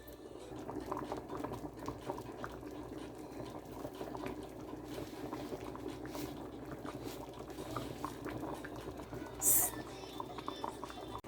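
Chicken foot and chicken back soup simmering on a stove makes a soft, continuous bubbling, with a faint brief hiss late on and occasional low clatter.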